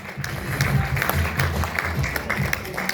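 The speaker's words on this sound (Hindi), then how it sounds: "चलिए जोरदार तालियां सबके लिए एक बार" Loud, continuous applause from a crowd at an event, steady clapping filling the whole stretch with some voices mixed in beneath.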